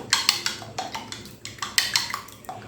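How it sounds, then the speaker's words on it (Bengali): Eggs being whisked with salt in a bowl, a rapid series of close clinking taps and scrapes of a utensil against the bowl in an uneven rhythm. "এবারে নুনের সঙ্গে এই ডিমটা খুব ভালো করে ফেটিয়ে নিতে হবে"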